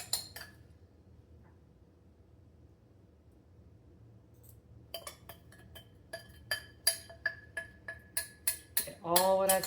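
Utensil scraping seasoning from a dish while cooking spicy Peruvian chicken, starting quiet, then a run of sharp clinks and scrapes in a quickening rhythm, ending in a louder clatter.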